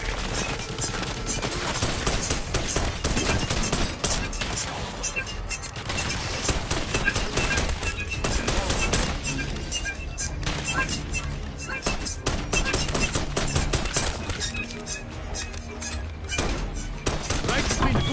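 Gunfire from the video game Call of Duty Black Ops 6: dense, relentless automatic bursts and rapid shots crackling almost without pause, loud and close.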